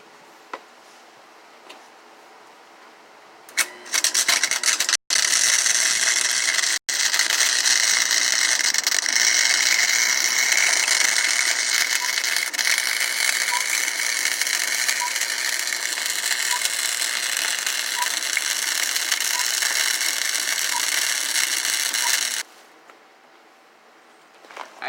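A cheap Harbor Freight flux welder runs a bead on a trailer hitch, a steady close crackling buzz lasting about twenty seconds, starting and stopping abruptly with brief breaks near the start.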